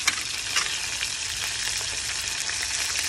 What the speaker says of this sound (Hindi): मैंने इसको फ्राई करना है परवल को